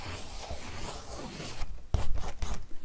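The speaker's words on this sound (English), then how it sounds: "and drawing onto the card." A pencil scrapes across a card with a steady rough rubbing, then turns to quicker, louder strokes and scratches near the end, close up with no talking.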